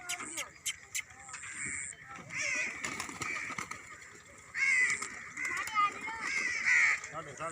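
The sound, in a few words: pigeons being fed grain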